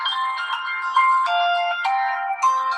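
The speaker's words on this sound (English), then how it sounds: "apparently my phone is ringing" Phone ringtone playing a bright melodic electronic tune, loud and close, continuous notes stepping up and down without any talk.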